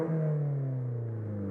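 Mazda 3 GT 2.3 with its exhaust cutout opened, a steady deep exhaust drone with a smooth rising tone, close and fairly loud over a short stretch.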